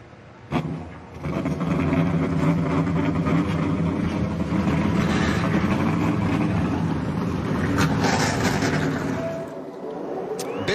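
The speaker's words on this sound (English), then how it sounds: "Drivers, start your engines!" Truck engines fire up at a Las Vegas race, a loud sustained roar of many motors building quickly after a brief quieter start and holding steady, then easing off near the end.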